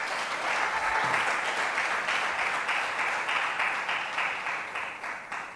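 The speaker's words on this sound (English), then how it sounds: "Give her a round of applause." An audience at a community center meeting in Tobago applauds steadily, a dense even wash of many clapping hands held at moderate level for several seconds, tapering slightly at the end.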